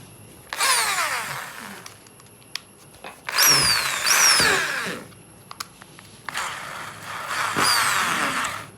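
A Bosch GSB 501 electric drill runs forward and reverse in three separate bursts, its motor whining as it revs up, holds and winds down, with quiet pauses between each run.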